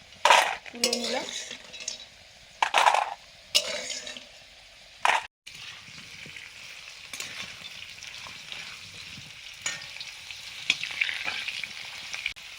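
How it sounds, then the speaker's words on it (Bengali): Potato pieces fry in mustard oil in a pan, a steady close sizzle broken early on by several sharp clinks and scrapes of a utensil stirring against the metal. "চুবড়ি আলু ভাজা হয়ে গেছে"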